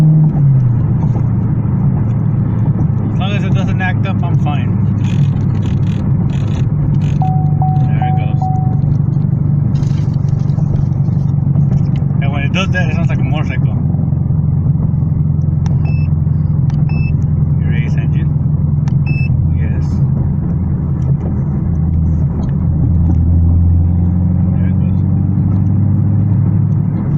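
A tuned car's engine idling in a long, steady low rumble heard up close, with occasional brief chimes and people talking over it.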